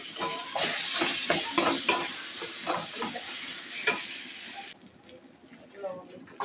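Green peas frying in hot oil in a wok, a bright sizzle with repeated scraping stir strokes, quieting after a few seconds to a softer simmer.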